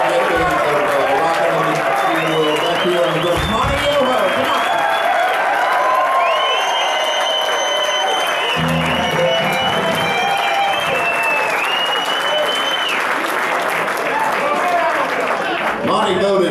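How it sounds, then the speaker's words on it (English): Applause and cheers rise from a bar-restaurant crowd at a live classic rock show for the drummer, a dense steady wash of clapping while someone talks over a microphone throughout. "How about a nice round of applause on the drums"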